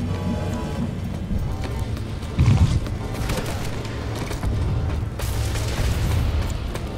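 A generator explodes in the video game PlanetSide 2: a short, heavy low boom bursts out of steady battle noise and rumble, followed by continued mechanical clatter and distant impacts.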